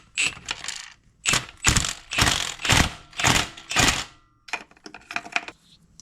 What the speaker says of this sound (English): with a series of extensions and a 12mm socket, we're gonna go in and fish out the EGR valve